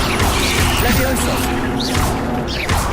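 Levioso levitation spell cast in Hogwarts Legacy, a sequence of swishing whooshes and crashing impacts over game effects, with a voice talking throughout.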